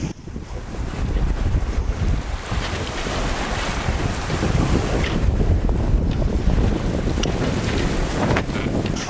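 Strong wind roars steadily across a sailboat running on autopilot at sea, with a broad continuous rush of gusts and wave wash, loud and close throughout, no voices.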